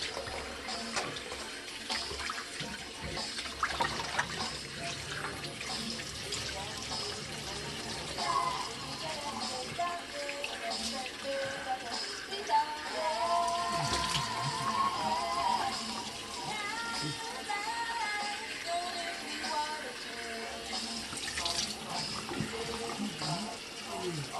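Warm water runs steadily from a tap into a sink during a home facial, a continuous splashing flow with some soft handling sounds.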